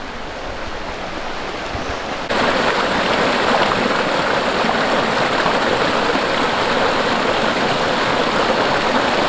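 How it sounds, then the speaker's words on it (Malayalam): The Meenachil river, a small cold stream on an off-road route in the Vagamon hills, rushes loudly and continuously in a dense, close-up wash of flowing water, growing louder after a couple of seconds, with no talking. "ഈ വെള്ളം ഒഴുകണുണ്ടോ ഇതൊരു പുഴയാണ് മീനച്ചാൽ റിവർ എന്നാണ് ഇതിൻ്റെ പേര്"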